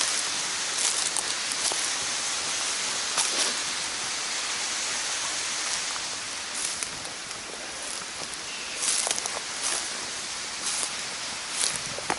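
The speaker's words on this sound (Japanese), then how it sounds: "これが滝？" Water from a waterfall beside a rock-carved Buddha makes a continuous soft hiss of falling and splashing water, faint and fairly distant, with scattered brief crackles and no speech.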